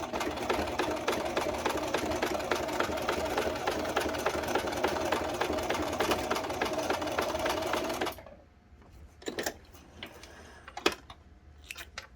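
A sewing machine basting trouser fabric runs at a fast, even stitching rhythm for about eight seconds, then stops, leaving a few sharp clicks and handling noises.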